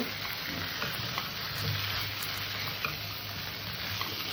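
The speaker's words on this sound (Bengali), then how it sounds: "গাঁঠিটা দিয়ে আমি তরকারিটা একটু" Taro stems sautéed in spiced oil for a prawn curry, giving a steady, close sizzling hiss with a few faint scrapes of stirring throughout.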